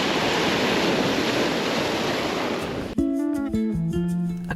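Ocean waves wash onto a beach in Cabo Pulmo, Baja California Sur, a loud, steady rushing surf that lasts about three seconds before it cuts to music.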